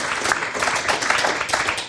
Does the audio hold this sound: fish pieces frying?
no